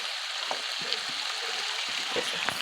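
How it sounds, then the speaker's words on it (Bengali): Spices sizzle and fry in a pan while biryani masala is stirred with dry chili powder, a soft steady crackle with small stirring scrapes close by. "এবার ভালো করে কষাবো"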